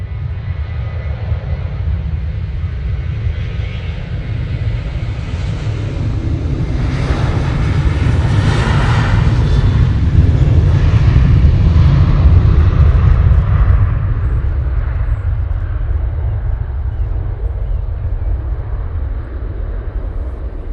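A Ryanair jet departing Manchester Airport sends out a loud, deep engine rumble that swells to a peak midway and then eases off slightly, a continuous roar with some wind buffeting and no voices.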